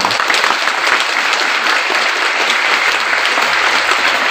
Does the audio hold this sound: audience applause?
yes